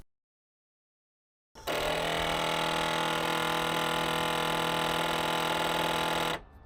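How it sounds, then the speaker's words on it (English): A Corvette C5 motor keeps spinning after the engine is turned off, giving a steady, close, even whirring hum that starts abruptly after silence and cuts off after about five seconds. "here I'll show you an inside view from the engine where you can see the spinning motor continue"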